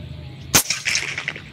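An air rifle fires a single sharp, close crack, followed by faint clatter and light ringing as the pellet strikes a target around 60 yards away.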